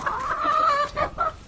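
A black chicken of a costly breed raised on a Nepali farm gives a few clucking calls, loud and close, with a longer drawn-out call followed by two shorter ones.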